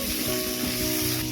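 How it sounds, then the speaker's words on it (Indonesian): Spices sautéing in a pan give a steady, dense sizzle that fills the short moment on its own, with no voices. "kemudian tumis bumbu hingga kandungan airnya benar-benar menyusut"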